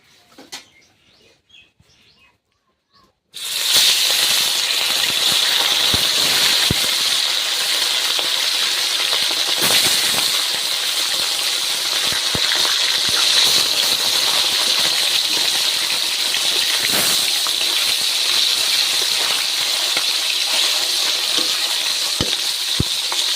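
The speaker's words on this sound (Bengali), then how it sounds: "এখন তেলটা গরম হয়ে গিয়েছে আর মাছগুলো আস্তে আস্তে ভেজে নেবো" A sudden loud burst of frying after a quiet start as tilapia fish go into hot oil, settling into a steady, intense sizzle with occasional pops.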